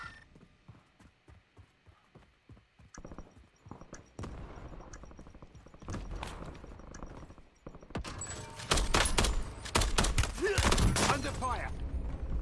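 Video game gunfire in a battle royale match with gas and enemy snipers, building from sparse clicks into dense, loud bursts of rapid shots and clatter.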